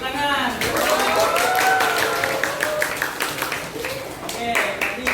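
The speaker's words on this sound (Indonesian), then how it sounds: "Betul, tepuk tangan." Students in a classroom clap together in a close, sustained burst, with voices calling out over the clapping as it tapers and briefly swells again.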